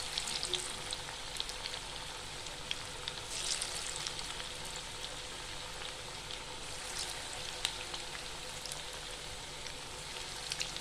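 Chicken pakora pieces fry in hot oil over a medium flame, giving a steady, dense sizzle with small crackles and pops throughout, close and continuous with no talking.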